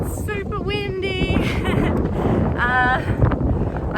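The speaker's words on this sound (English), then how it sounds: "Larapinta Trail day 8 and it's super windy." Strong wind buffets the microphone in a steady roar on a desert hiking trail at Serpentine Gorge on the Larapinta Trail, with bird calls chirping faintly on top.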